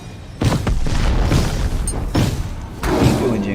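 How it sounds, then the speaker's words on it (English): Ah Puch's Corpse Explosion ability going off in the Smite video game: a loud, deep boom followed by further heavy blasts with crunching debris, playing alone without any talk. "my advice is always to focus on your Corpse Explosion,"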